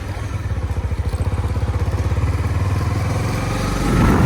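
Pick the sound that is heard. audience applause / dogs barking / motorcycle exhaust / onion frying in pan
motorcycle exhaust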